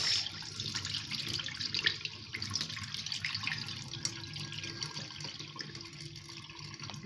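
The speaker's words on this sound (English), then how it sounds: "I'm draining out the dirty water." Dirty rinse water pours off washed soya beans, a steady close splashing and trickling stream with scattered drips, lasting several seconds without speech.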